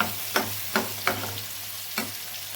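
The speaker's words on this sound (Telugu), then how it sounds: "ట్రాన్స్ఫర్ చేసి ఇలా లో ఫ్లేమ్ మీద ఇలా కొద్దిసేపు ఫ్రై చేసుకోవాలి" Thick paste mixture frying in ghee over a low flame, with four distinct scraping strokes of a spoon against the pan over a faint, steady sizzle and a low hum.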